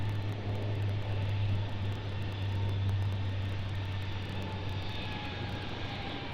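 A Dash 8 turboprop airliner at Brisbane Airport gives a steady, fairly loud engine drone with a low hum, holding even for several seconds before easing slightly at the end.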